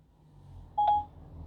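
DTMF dialing tones placing a phone call through Apple CarPlay in a 2019 Kia Cerato, a single short tone burst rising clearly over a faint background hum.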